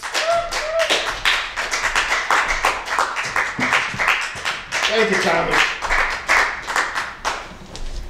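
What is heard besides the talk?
comedy club audience applause for a comedian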